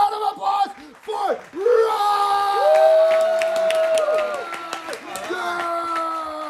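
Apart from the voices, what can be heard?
audience applause and cheering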